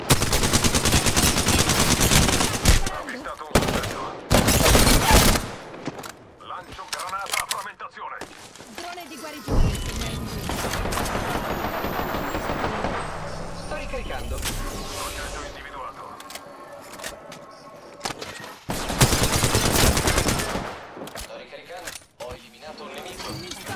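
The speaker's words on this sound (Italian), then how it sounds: "I nemici mi stanno sparando." Rapid bursts of gunfire in Apex Legends, loud and repeated in rattling volleys, with brief pauses and mechanical clicks between them.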